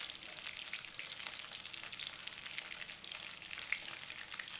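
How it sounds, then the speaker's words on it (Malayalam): Paneer for paneer 65 fries on a low flame. A faint, steady, fine sizzle crackles evenly throughout, with a small sharper pop near the end. "ചെറിയ തീയിൽ വെച്ചിട്ട് വേണം അത് വറുത്തെടുക്കാനായിട്ട്"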